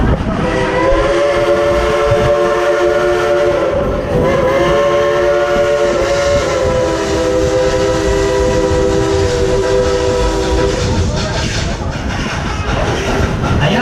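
The Dollywood Express steam train, engine 192 known as Klondike Katie, sounds a long multi-tone steam whistle in repeated held blasts over the rumble of the moving train, loud and close, ending in chugging and clatter.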